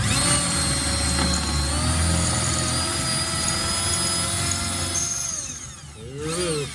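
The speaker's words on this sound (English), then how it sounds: "we're gonna drill this out, this rivet" A power drill whines steadily while drilling out a rivet on a 1990 Mustang GT frame, the pitch sliding down near the end as the bit breaks through and spins down.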